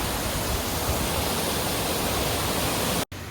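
A waterfall at Goldbug Hot Springs roars as a loud, steady broadband rush close by, with a sudden brief dropout near the end.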